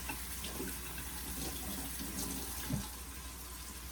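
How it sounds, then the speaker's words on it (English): Tap water runs steadily into a sink while cilantro is rinsed, a continuous close splashing flow with a small bump of movement near the end. "The cilantro. Let me wash it. Make sure there's no dirt in it."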